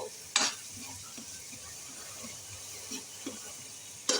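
Spices frying in a pan for aloo gobi, a steady close sizzle with occasional scrapes and stirring clicks of a utensil against the pan.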